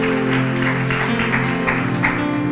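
Audience clapping during a talk, a steady patter of claps under a droning sustained background tone, continuous for the whole stretch.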